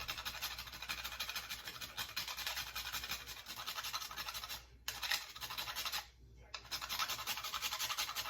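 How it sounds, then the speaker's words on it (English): Whole nutmeg is grated by hand into chocolate chip muffin batter. Quiet, rhythmic scraping strokes run steadily with two brief pauses, no talk over them. "So I'm just going to judge this by eye and just grate a little bit."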